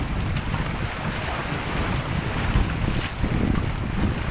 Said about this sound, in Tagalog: Wow, ang laki ng alon.